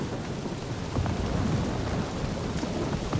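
Thunderstorm with lightning in the Guardians of the Galaxy video game: heavy rain hissing on surfaces with rolling thunder rumbles underneath, wind mixed in, no voices.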